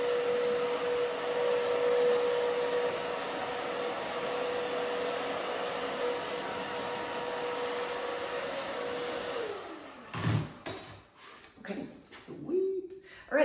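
A hair dryer running on its low setting while drying a short layered haircut, a steady broadband whoosh that holds evenly for about ten seconds before cutting off into handling noises and brief bursts.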